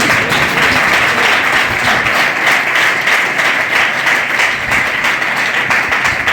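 An audience at a Hindi poetry recital in a yoga ashram applauds in a dense, loud, continuous wash of clapping that holds steady throughout.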